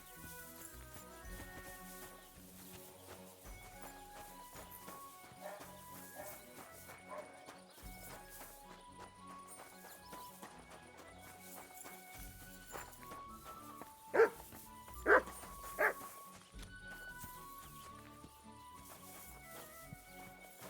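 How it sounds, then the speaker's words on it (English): A dog barks in short, sharp bursts in the video game Kingdom Come: Deliverance II, set near a village smithy, amid horse hoof clip-clops, background music and nearby character speech. "Call off that dog!"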